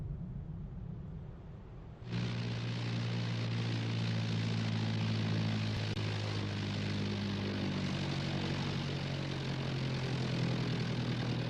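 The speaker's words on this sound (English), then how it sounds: "The only way in is via this one little plane, flown by this one pilot." A small single-engine propeller plane drones steadily overhead above a remote wildlife refuge, its engine hum and prop buzz coming in sharply after a quieter start and holding level and fairly close throughout, with no talking.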